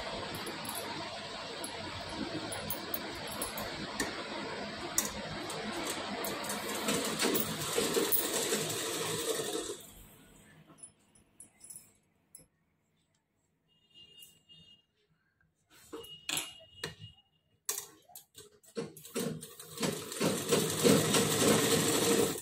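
A sewing machine stitches the shoulder seam of a plain single-piece blouse, running steadily and fairly loud for about ten seconds, then falling quiet before several short bursts of stitching resume near the end.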